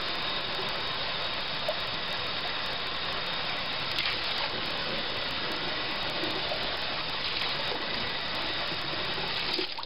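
Water rushing steadily into and around a corny keg during a rinse, a loud, continuous splashing hiss that holds unbroken from start to finish with no talking.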